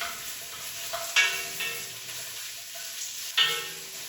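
Green bell pepper frying in a few tablespoons of oil in a Dutch oven gives a soft, steady sizzle, with a couple of sharper spatters as it is stirred, and no voices.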